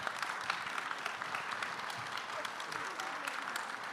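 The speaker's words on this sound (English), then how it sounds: "could you all stand up and let's give a round of applause to this panel" An audience at a live journalism event in Houston stands and applauds a panel, a dense, steady roar of many hands clapping close by that holds evenly for the whole stretch.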